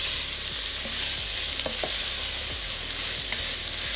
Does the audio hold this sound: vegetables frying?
yes